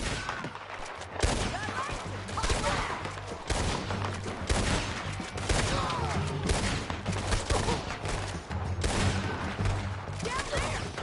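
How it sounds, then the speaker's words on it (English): A gunfire shootout in Red Dead Redemption 2 rattles on without pause: dense, overlapping rifle and pistol shots, loud and continuous, crackling from many directions at once. "Let's just start shooting."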